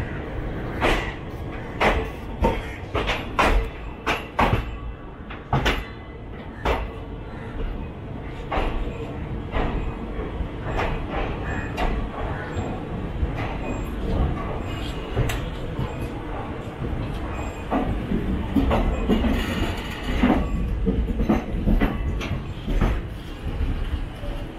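The 12601 Chennai Central–Mangalore Mail rolls into Shoranur Junction, with steady rhythmic wheel clatter and sharp knocks over a loud rumbling interior.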